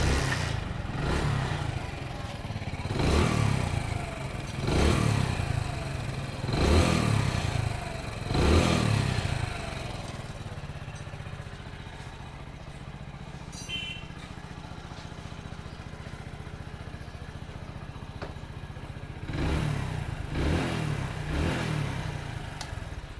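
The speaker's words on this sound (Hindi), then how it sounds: "अब बाइक को फाइनल स्टार्ट करके आप लोगों को दिखाता हूँ" A rebuilt Hero Splendor/Passion motorcycle engine runs steadily near the listener. It revs in a regular series of surges, settles into a smooth idle, then picks up again toward the end.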